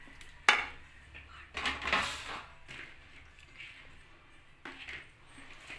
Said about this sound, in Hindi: और इसमें ये कटा हुआ लहसुन और अदरक ये भी इसमें शामिल कर देते हैं।